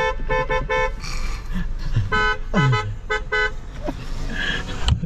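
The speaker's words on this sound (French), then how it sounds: "tu leur fais le coup de klaxon marocain" A car horn honks in a rapid rhythmic pattern of short toots in Moroccan style, loud and close, with brief voices and traffic noise mixed in.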